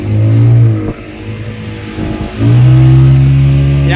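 A speedboat's engine drones loud and close on the sea near Sindhudurg, a deep steady hum that eases and dips briefly, then swells back to full power.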